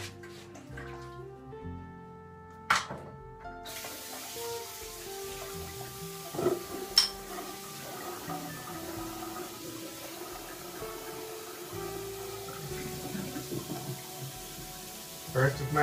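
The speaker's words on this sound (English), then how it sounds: "Alright, let's rinse off." Running water splashes as a face is rinsed at a sink after shaving, with intermittent splashes and drips over a steady tap flow, alongside background music.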